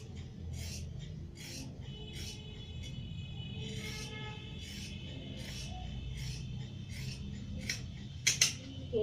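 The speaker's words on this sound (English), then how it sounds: "So I cut the legs." Scissors snip through pajama fabric in a quick, regular series of short crisp cuts, close and fairly quiet, ending with a few louder clicks.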